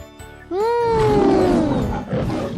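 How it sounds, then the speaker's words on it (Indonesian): A lion lets out one deep, sustained roar that swells quickly and slowly fades over about two seconds, close and loud, with no talking. "Itu adalah suara singa."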